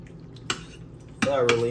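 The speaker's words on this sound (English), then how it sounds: "I'm just mixing like all my additions in thoroughly" Spinach tortellini pasta ingredients being stirred and mixed in a pan, with a couple of sharp utensil knocks against the metal over a low background hum, followed by a short sizzling scrape near the end.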